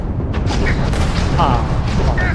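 Spaceship weapons open fire in a space-combat video game, a dense, continuous roar of booming blasts and rumbling low end packed together for a couple of seconds, loud and close, with no gaps between shots.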